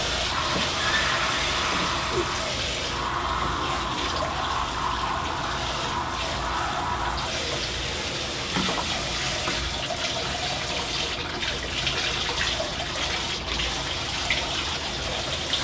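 Tap water rinsing a vintage lamp shade during cleaning, a steady, close gushing stream splashing into a sink for the whole stretch.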